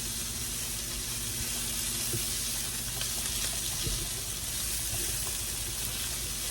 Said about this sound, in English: I'm just going to boil them.